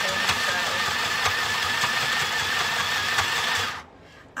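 A sewing machine run from a front button rather than a foot pedal stitches a paper tag in a continuous, steady whir with faint rhythmic ticks. It stops abruptly near the end.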